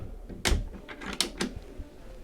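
A storage drawer beneath the bed on an Omikron OT-60 yacht slides open or shut, giving a few sharp wooden knocks and a quick rattle up close, with no one talking.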